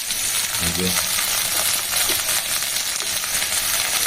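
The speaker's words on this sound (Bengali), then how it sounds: "এবারে একটু লবণ আর হলুদ দিয়ে ভাজবে" Vegetables and leafy greens frying in a pan with salt and turmeric give a constant, dense sizzle, with a brief low voice near the start.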